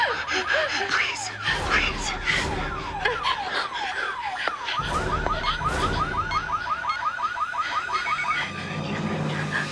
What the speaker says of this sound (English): If you don't shut off that alarm right now, I have to kill you